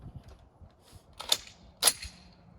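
Two sharp, fairly near rifle reports from a Springfield Armory M1A firing surplus 7.62 NATO ball ammunition at steel targets, spaced about half a second apart, with no voices.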